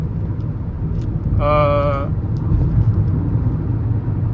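A Kia Carens engine revs up toward 3000 rpm, its droning rumble joined by a rising whine that peaks briefly before settling back into a steady hum.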